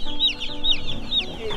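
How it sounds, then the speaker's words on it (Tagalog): Broiler chicks, 45 days old and raised on pasture, give repeated high peeping and soft clucking calls, close and clear, in quick rhythmic bursts. "parang kakaiba tong mga sisiw na to"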